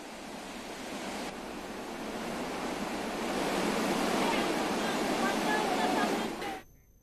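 Swollen Sharda river water rushing in flood after days of mountain rain, a loud, steady broadband roar of churning current that builds and holds close by before cutting off abruptly near the end.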